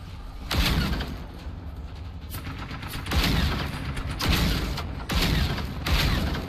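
Cannon fire in the video game Generation Zero during a base assault: a run of heavy, booming blasts spaced a second or so apart, loud and close, with mechanical clatter between the shots.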